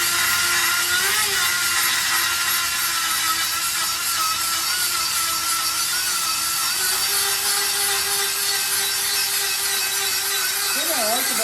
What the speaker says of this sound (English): you can definitely two-hand this grinder, but this is way more of a, you know, one-handed grinder than the other one